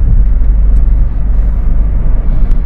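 A 2005 Jeep Grand Cherokee WK CRD diesel cruises on a motorway at about 70 mph and 2,400 rpm, giving a steady low engine drone and road hum, close and continuous with no talking.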